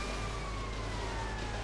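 A fire engine siren in the video game GTA Vice City holds a steady, sustained wail over a constant low engine rumble, moderately loud and with no talking.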